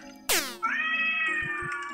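A cat in a video game gives a loud, sharp meow followed by a longer drawn-out second meow, clear and close over a quiet background.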